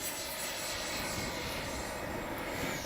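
Freewing F9F-8 Cougar 80mm electric ducted-fan RC jet passing by on a windy day, a steady whooshing whine with wind noise throughout, fairly faint.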